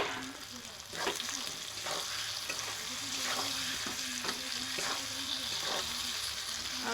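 Potatoes dropped into hot spiced oil that has been cooking down with masala for a chicken curry, a steady loud sizzle with regular scraping stirs repeating about every second.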